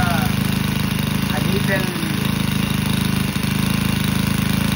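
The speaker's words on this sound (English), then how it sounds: "So that's how the engine sounds. It's not too loud." A Senix 4-stroke weed eater engine idles steadily at close range, a low, even motor drone that holds throughout, with a brief spoken comment over it.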